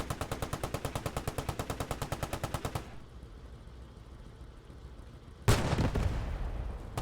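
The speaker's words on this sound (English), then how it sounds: "The MG doing some suppressive fire" Machine gun fire in the World War II shooter game Squad 44, a rapid, even burst of about thirty shots, a lull with distant rumble, then another loud burst starting abruptly.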